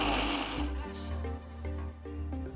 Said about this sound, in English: Once it cools down, grind it to a nice fine powder